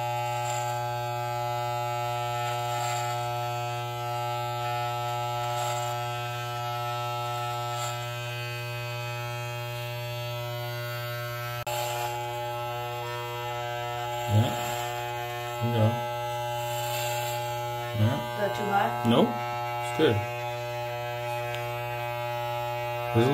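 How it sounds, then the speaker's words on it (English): Electric hair clipper buzzes steadily on a boy's head as it cuts his hair, a constant close mains-pitched hum with brief rustles and bumps near the end. "keep it flat against your head so you can use the entire clipper, not just the corner"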